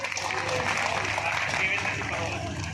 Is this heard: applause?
yes